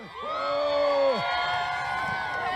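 A large crowd at a Donald Trump rally in Detroit, Michigan cheers and whoops loudly, sustained roaring with rising shouts at the start, filling the whole moment without a break.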